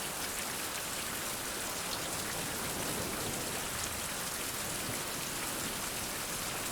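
Heavy in-game rain from the survival title Fountain of Youth pours down as a thick, constant patter and hiss across the whole stretch, close and uninterrupted, with no talking.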